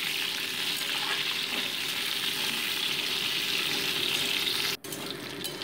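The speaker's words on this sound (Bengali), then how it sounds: "দিয়ে মোটামুটি 2 মিনিট এটাকে ভেজে নিচ্ছি।" Pieces of potato and bitter gourd fry in a pan with a loud, continuous close sizzle and faint stirring, briefly cutting out near the end.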